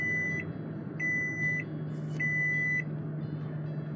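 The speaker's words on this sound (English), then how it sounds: "Now that the beeping has subsided" Three steady electronic beeps, each about half a second long, repeat at a regular pace over a low constant hum inside a 2018 Toyota Sequoia Limited 5.7 with the key inside.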